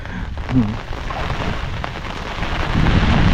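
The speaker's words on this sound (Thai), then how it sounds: "โอ้ฝนตกตลอดเพื่อนๆนะครับ" Heavy rain falling on a Toyota Fortuner during a trip, a dense steady hiss of drops drumming on the vehicle, loud and close, with faint low rumbles underneath and no clear talking.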